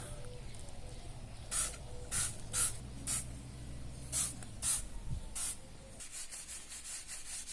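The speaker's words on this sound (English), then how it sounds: "Let's put some degreaser." Degreaser sprayed on a dirty Yamaha YZF 750R motorcycle in about eight short, sharp hissing bursts in irregular rhythm, close and clear over a low background hum.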